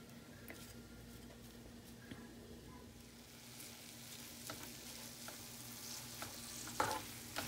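A shrimp mixture is stirred in a pan with quiet, intermittent scraping and light sizzling that grows slightly louder toward the end, heard close and without talk.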